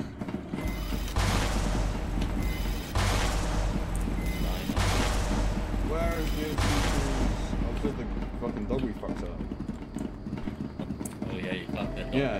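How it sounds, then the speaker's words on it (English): Repeated bursts of gunfire in the multiplayer horror shooter SCP: Secret Laboratory, loud heavy volleys returning every second or so amid game noise, with people talking over them throughout. "I can hear shooting behind us"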